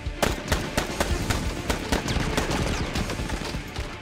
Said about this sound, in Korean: 총소리가 온 집안.